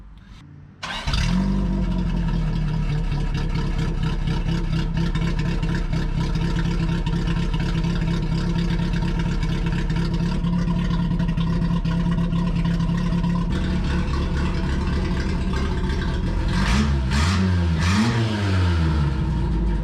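The engine of a 1984 Toyota mini truck cranks, catches and settles into a rough, loud idle, then revs up several times near the end, close by, with a possible choke problem.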